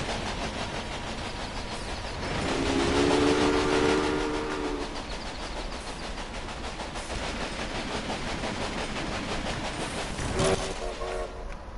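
Railway Empire trains rumble steadily with a layered whistle or horn sounding around the third second and a brief blast near the end, while game ambience runs underneath throughout.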